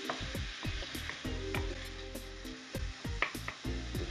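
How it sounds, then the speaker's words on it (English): Two chopped onions sizzle in a skillet with olive oil and butter, a steady crackling fry broken by clattering knocks as the pan is shaken and stirred up close. "2 chopped onions going into the skillet with the olive oil and the butter"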